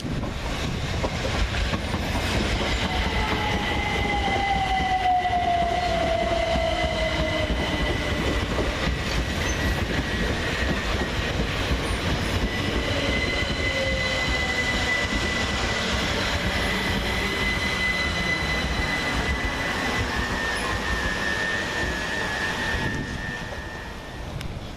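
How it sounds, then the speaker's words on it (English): Two coupled Class 377 Southern Railway electric units on the Littlehampton to London Victoria service pull into Preston Park station, a continuous loud rumble of wheels and motors with rising and falling tonal whines and faint clickety-clack, no voices. "Next into the station is 377-442 and 377-162 with the 1256 Southern Railway service from Littlehampton to London Victoria"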